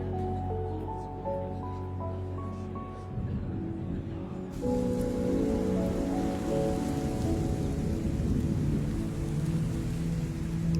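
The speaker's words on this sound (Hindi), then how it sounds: "चलो, बारिश तो रुक गई।" Soft melodic tones play quietly before a steady, dense downpour of rain takes over, loud and continuous hiss with faint low rumbling.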